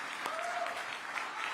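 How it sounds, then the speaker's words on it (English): Sustained audience applause fills a live convention hall, dense steady clapping from a crowd for the full length, with a faint tonal whistle briefly riding over it. "Ladies and gentlemen, can we give them all a wonderful round of applause?"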